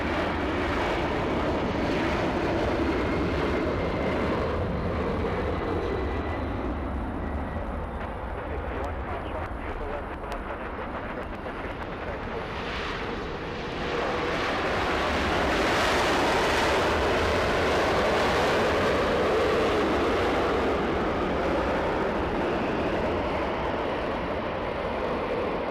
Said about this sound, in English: Aer Lingus landing right in front of us.